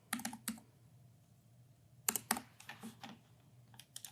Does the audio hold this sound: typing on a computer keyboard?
yes